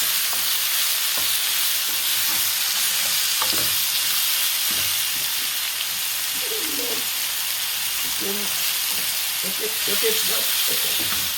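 Lobster and prawns pre-cooking in a pan, a loud continuous sizzle with a few soft stirring knocks and some faint tonal sounds in the background.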